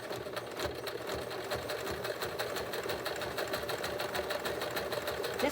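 An old sewing machine stitching a zigzag, a fast, even mechanical clatter of the needle with a whirring motor underneath, steady and close with no voices.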